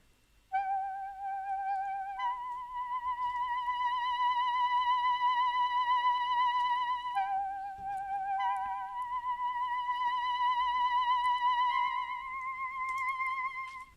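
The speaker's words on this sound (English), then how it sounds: "we have the last sound, which is the saxophone, another one from DSK" A sampled saxophone from a DSK software plugin plays a clean melodic line of sustained, slightly vibrato notes with short pauses between phrases, alone and without other instruments or talk.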